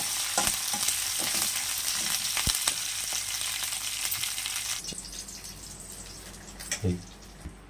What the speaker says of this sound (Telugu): ఇప్పుడు మనం ముందే సిద్ధం చేసుకున్న ఎర్రకారంలో నువ్వుల నూనె పోపు నువ్వుల నూనె పోపు వేసుకుంటాం